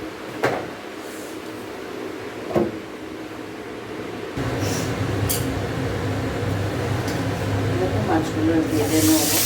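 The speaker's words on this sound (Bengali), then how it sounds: "মাছগুলো ভেজে নেব।" Large katla fish frying in hot oil in a home kitchen, a loud steady hiss and sizzle that starts abruptly partway through and continues under faint background sounds, after a few knocks and bumps.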